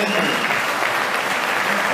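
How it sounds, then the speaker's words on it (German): Continuous audience clapping at an amateur boxing match, broad and steady throughout, with a voice faintly audible under the applause. "nochmal euer Applaus für Kai"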